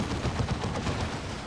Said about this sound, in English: Plasma Cannon misses.